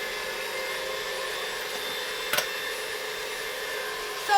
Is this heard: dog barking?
no